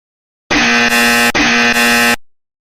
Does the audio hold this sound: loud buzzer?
yes